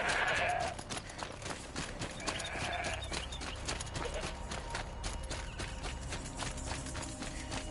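Horse hooves clip-clop in the video game Horizon Zero Dawn, a steady rhythmic plodding over a busy layer of game music and ambient sound, fairly close and moderately loud throughout.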